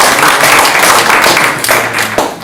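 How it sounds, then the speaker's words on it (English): Dense applause from a seated audience at the end of a live presentation on collaborative game histories at a museum of games, loud and sustained with scattered louder claps, no talking over it. "Let's give a big hand of applause."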